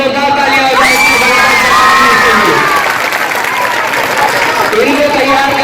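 Crowd at a school annual function cheering, whooping and clapping for a group of performing girls, a loud continuous roar of children's shouts and applause with a voice calling out over it.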